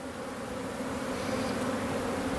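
Honeybees buzzing around hive frames during a colony boost, a steady dense hum that stays close and even throughout with no voices.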